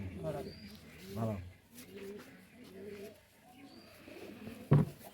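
Rajshahi local giribaj pigeons coo in soft repeated bursts, fairly close, while people talk nearby.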